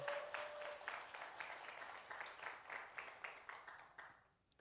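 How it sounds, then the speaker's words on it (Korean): Rhythmic clapping from a church congregation at a Sunday service, quiet and somewhat distant, keeping a steady beat for several seconds before fading out at the end. "박수합니다"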